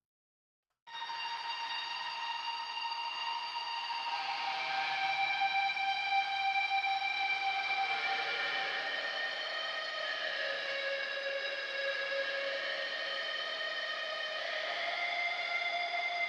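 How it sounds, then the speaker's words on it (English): Whale-like synthesized tones in a metalcore track, drenched in reverb, with long sustained gliding pitches that slowly bend and overlap, holding steady for about fifteen seconds after a sudden start. "Those are kind of whale songs."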